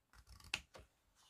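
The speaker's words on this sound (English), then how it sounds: "I'm going to take my scissors, and what I'm going to do is I want to cut off these little corners" Scissors snip the small corners off a scored card panel for a cardmaking kit: a few quiet, close, crisp cuts in a short run, one sharper snap in the middle, with no talking.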